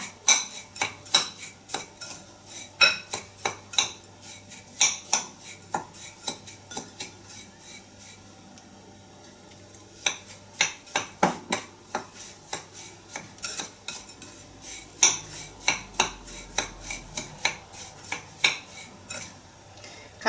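A spoon stirs crushed biscuits and salted butter in a bowl, giving close, irregular metallic clinks and scrapes in quick bursts over a soft rubbing background, with no voices.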